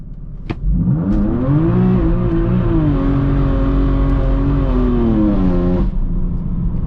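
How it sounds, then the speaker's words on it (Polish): BMW M car with a DCT dual-clutch gearbox doing a launch control start: engine revs rise and hold near 3000 rpm, then the clutch bites and a loud, sustained engine roar carries the car forward before easing off. "obroty najpierw ruszą e, do 3000, wtedy nastąpi nagłe załączenie sprzęgła i ruszymy po prostu do przodu"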